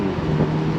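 A 2024 Mercedes-Benz CLE 300 convertible on throttle through twisty roads, its engine holding a steady, loud drone for a brief moment.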